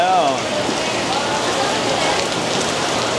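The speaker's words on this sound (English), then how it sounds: "it's pouring down all of a sudden out of the blue" Sudden heavy rain pours down in the Philippines, a dense steady hiss of drops drumming on surfaces that stays even and fairly loud for the whole stretch, with no clear talk over it.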